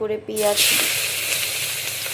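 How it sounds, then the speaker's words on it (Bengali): Chopped onions dropped into hot oil left over from frying silver carp, bursting into a loud steady sizzle after a brief clatter, continuing close and alone. "আমি এখন ওই মাছ ভাজা তেলের মধ্যে পেঁয়াজ দিয়ে দিব"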